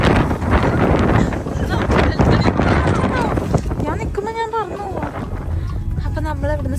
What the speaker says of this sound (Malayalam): പുറത്ത് ഭയങ്കര കാറ്റും മഴയാട്ടോ